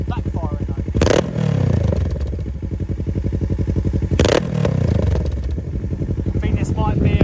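A Kawasaki Z650RS with an aftermarket full-system exhaust revs with a deep pulsing burble, broken twice by sharp loud backfire bangs that are followed by crackling, close and loud, with a voice speaking briefly.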